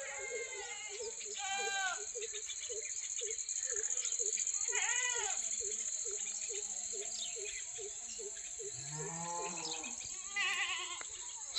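Goats bleat several times on a farm, the calls near and fairly loud, rising over a steady high-pitched insect drone and a soft, regular background ticking.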